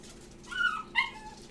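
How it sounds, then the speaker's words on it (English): A puppy left behind cries with two short high whimpers, a thin rising whine followed by a second yelp, moderately close over a faint background hum. "they didn't take the puppies with them, so you can hear a crying dog"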